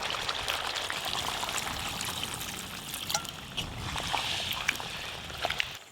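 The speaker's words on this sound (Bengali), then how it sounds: "ওলকপি দিয়ে ভালো করে কষায় গেছে এবার জল দিয়ে দেবো" Water poured into a pot of chicken curry cooked with kohlrabi, a continuous gentle splashing pour close by, with some soft clinks near the end.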